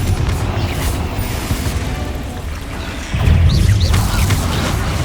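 Rapid Confringo explosion spells in the video game Hogwarts Legacy produce a continuous rumbling din of booms and crashes, swelling into a heavier, louder blast partway through and staying dense to the end. No voices.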